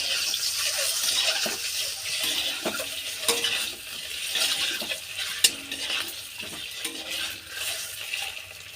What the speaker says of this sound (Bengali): এবার ডিমটা ভেজে নেব ডিমটা একটু ভালো করে ভুজে নিতে হবে